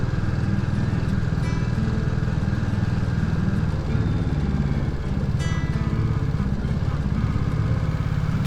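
A Royal Enfield Classic 350 single-cylinder motorcycle with 20 PS thrums steadily at a relaxed cruising pace through vineyards, its low pulsing engine note constant and fairly close, with wind noise around it.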